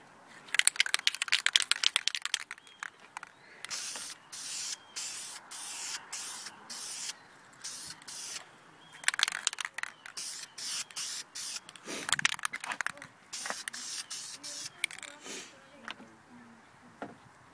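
An aerosol spray can paints a Lexus ES300 exhaust header and O2 sensor in repeated short hissing bursts, some long and some quick, with rattling of the can between passes and quiet gaps.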